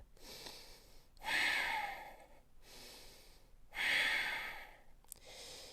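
Slow, deep breaths are drawn in and let out during a yoga standing splits pose in a live class, two long audible exhales standing out close and soft against quiet.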